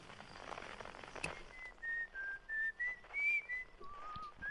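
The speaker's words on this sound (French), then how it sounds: "le mec il est en train de siffler au calme sur la lune" A character whistles calmly on the moon in the video game Outer Wilds, a slow wavering melody of sustained tones over a quiet, hissy ambient backdrop.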